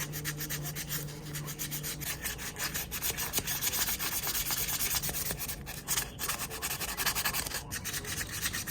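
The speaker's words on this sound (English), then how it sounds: "I might get a screwdriver and scrape that and sandpaper, 400 grit, clean the rest of it up" A knife blade from a vintage 1977 Western knife is sanded by hand with 400 grit sandpaper, giving close, steady, continuous rubbing strokes with a gritty, scratchy texture and no talking.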